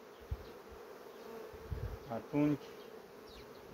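Honeybees buzz around their hive as the colony settles into new space, a soft steady drone with a few louder passes of single bees flying close by, under a brief spoken word.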